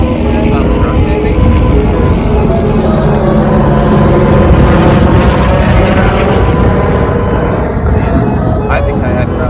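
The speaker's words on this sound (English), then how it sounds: "The choppers out here today." A helicopter rumbles loudly overhead with a steady, dense roar and churning low drone that fills the scene without pause, no speech clearly heard.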